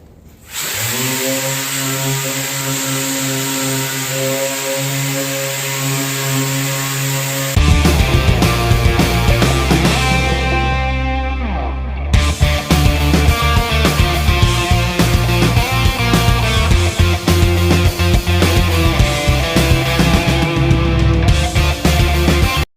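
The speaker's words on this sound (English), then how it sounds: "about to get the sander out and start cleaning up the front half of the cab" Power sander working over the cab of a Ford F100 truck: a loud, continuous motor whine that shifts pitch as the tool changes speed and presses onto the metal, alone with no voices.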